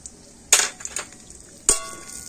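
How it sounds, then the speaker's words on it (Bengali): Two kinds of nuts fried in ghee and stirred in a pan: a few sharp metallic clinks and scrapes of a utensil against the pan, close and separated by quiet gaps. "তো এই 2 রকম বাদাম ঘিয়ের সাথে কিন্তু একটু ভেজে নেব।"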